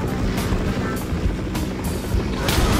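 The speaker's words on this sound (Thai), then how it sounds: "เดี๋ยวไปเลยออกมาเป็นเฮลิคอปเตอร์นี่หว่า ไปบินไกลไปเสียงโคตรตรงหูเลย" Helicopter flying in a video game, a loud continuous rotor thrum with rhythmic blade chops close to the listener, steady for several seconds.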